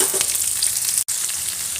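Steady sizzling of chopped onions frying in hot oil, a dense crackling hiss with a brief break near the middle; no voices.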